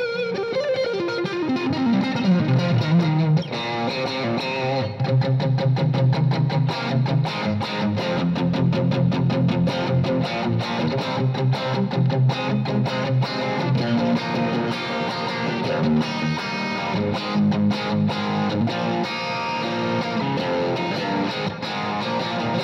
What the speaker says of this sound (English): this is like a really high quality Lexicon plate reverb